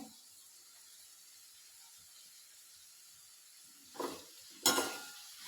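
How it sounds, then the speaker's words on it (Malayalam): Onion and capsicum sauté in a pan with a faint, steady sizzle, then two short louder stirring scrapes near the end. "സവോള വഴന്ന് ഒരു ഇച്ചിരി സെറ്റായി കഴിയുമ്പോഴത്തേക്ക് അതിലേക്ക് ക്യാപ്സിക്കം കൂടി ചേർക്കുവാണേ"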